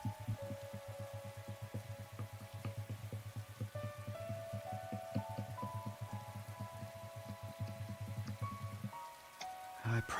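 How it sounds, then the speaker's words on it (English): Rain falls on a rooftop with a steady, dense patter of drops, faint and continuous, and the flow thins out briefly near the end. "it's raining, too. It's coming down really hard. Raindrops were pelting the rooftop all around me"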